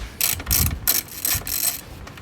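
A ratchet clicks in quick bursts while backing out 10 mm bolts holding the front light housing on a Jeep JL Wrangler, close and crisp with short pauses between runs.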